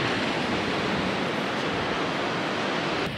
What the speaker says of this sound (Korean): 저 정도 파도면 수영 못하겠다.